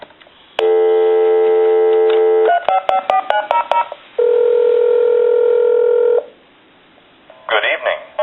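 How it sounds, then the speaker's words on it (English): A vintage Spirit of St. Louis telephone on speakerphone: a steady dial tone, then a rapid run of DTMF redial beeps, a second long tone, silence, and the start of a connected call, loud and close. "I'm going to hit redial."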